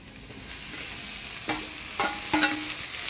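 Jute leaf greens (red pat shak) frying in hot oil tempered with dried red chilli, radhuni and chopped onion, a steady soft sizzle broken by three sharp scraping stirs of a spatula against the pan.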